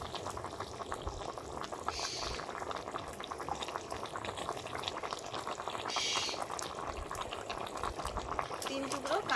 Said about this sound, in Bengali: ঝোল ফুটে গেছে, মাছগুলো দিয়ে দিচ্ছি।